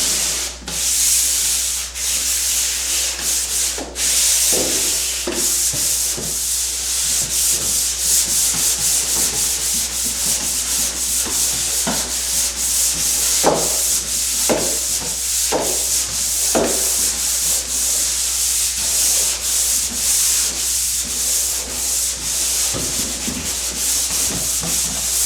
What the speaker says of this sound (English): So the angle of the sanding block is in there, just to get that.